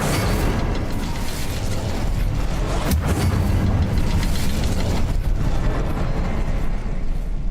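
Incendio fire spell going off in the video game Hogwarts Legacy, a loud sustained roaring burst of fiery noise with crackling texture, filling the space densely for several seconds.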